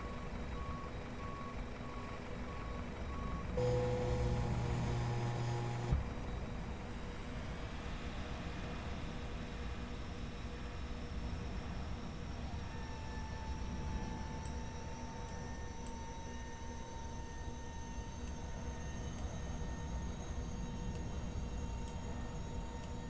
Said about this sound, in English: APU spooling up.